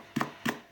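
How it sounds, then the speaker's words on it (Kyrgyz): Two sharp knife strikes through peeled ginger on a cutting board, close and crisp, evenly spaced with a brief pause between them. "Кабыгын арчып, бир чайный ложкага ылайык кылып майда кылып туурап алабыз."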